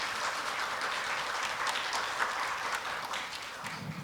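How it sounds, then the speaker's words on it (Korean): At a Korea University leader lecture series event, the audience applauds the university president. Even, dense clapping fills the hall throughout and is faint and somewhat distant, with a brief low voice near the end. "총장님께 다시 한번 큰 박수 부탁드립니다."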